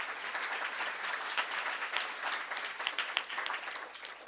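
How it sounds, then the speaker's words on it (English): Sustained applause from a conference audience at a panel on feminist foreign policy, many hands clapping steadily and fairly loud for several seconds without voices. "Merci, on peut les applaudir."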